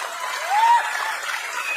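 Crowd applause at a wrestling bout between Sikandar Shaikh and Vikram, a brief burst of clapping that swells slightly and then holds steady.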